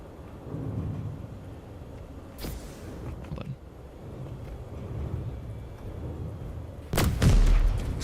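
Explosive blast in the video game Steel Seed: a low rumbling backdrop, then a sudden loud, booming burst near the end that rolls out into a brief decaying rumble.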